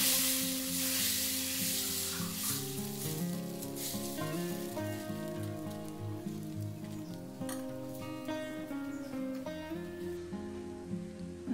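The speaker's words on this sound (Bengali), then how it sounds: "এইভাবে সবগুলো আমি ভেজে নেব।" Soruchakle batter fries in a thin film of oil in a pan, giving a soft, continuous sizzle that stays faint beneath louder background music for the whole stretch.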